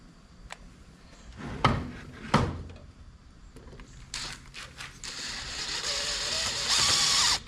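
After a few clattering knocks and handling sounds, a power drill fitted with a reamer whirs steadily for about two seconds as it reams a Mercruiser Cool Fuel 3 fuel part, then stops.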